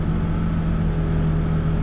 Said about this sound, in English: But you can hear this backhoe,